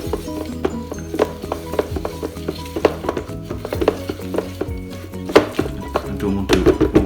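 A food processor gives a brief, uneven whirr and clatter while blending a smoked mackerel and wild rocket pesto sauce with Parmesan, close up, with a bowl and blade rattling.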